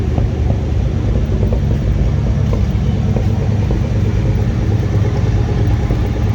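A 1971 International Travelall 1210, just revived after sitting 22 years, idles with a loud, steady low rumble that holds even and close throughout with no voices.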